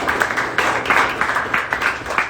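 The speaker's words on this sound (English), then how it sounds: "Give him a round of applause." Audience applause at a real estate mindset meetup, brisk clapping from a modest crowd in a room, steady and fairly close with rhythmic bursts.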